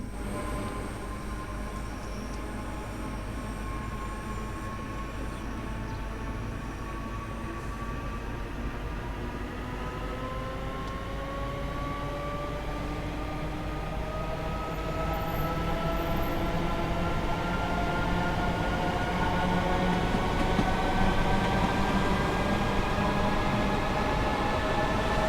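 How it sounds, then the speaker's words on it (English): Train traction motors whine in Train Sim World 3 on the Glasgow Cathcart Circle Line, several tones climbing slowly in pitch as the train gathers speed over a steady rumble that grows louder toward the end. "I think the traction motors could use with being a little bit louder, like more of a louder hum"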